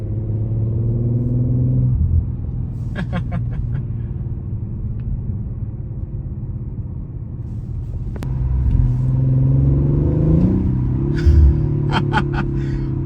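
Deep exhaust rumble from an Audi RS 5 cruising at steady speed, with a brief swell of engine noise partway through and faint clicks from the cabin.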